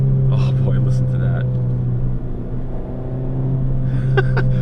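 Inside a Fiat 500 Pop with an aftermarket exhaust and its catalytic converter kept, the engine hums in a steady, loud rumble as it downshifts, with brief speech at the start and end.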